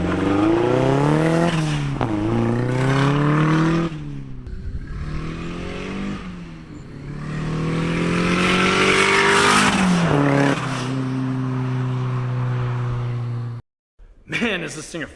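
A KA24DET-swapped Datsun 510 turbo pulls hard along a highway, its engine loud and close, droning and rising through the gears with brief dips between shifts before cutting out near the end.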